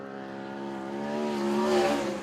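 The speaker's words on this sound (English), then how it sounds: "He's had some great results in the last few weeks. He was in 6th on his first lap. We'll see what his second lap brings to the Gas Man, Steve Duff Jr." A sprint car engine screams through a dirt-track time trial lap, its steady harmonic whine rising and swelling in loudness as the car nears, then easing slightly, with no talk.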